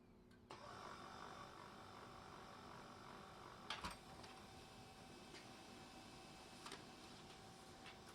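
An HP LaserJet P1102w printer, reassembled with its toner cartridge after a paper-pickup fault, runs a test print with a low, steady mechanical whir and a few soft clicks and clunks, quiet and close.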